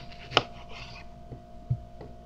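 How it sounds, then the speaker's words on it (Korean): A knife halving small washed strawberries, with two quiet, distinct cuts, one early and one later, over a low background hum and no voices. "딸기 손질 완료했고요. 이거를 또 반으로 자릅니다."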